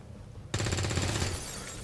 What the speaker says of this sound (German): Der Schuss war richtig mies.